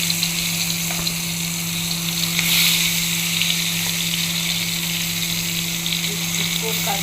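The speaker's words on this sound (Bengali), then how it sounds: "মেখে আমার বেগুন ভাজা হয়ে যাচ্ছে।" Eggplant slices frying in oil in a home kitchen, a steady close sizzle and hiss running throughout with faint mains hum beneath and no talk over it.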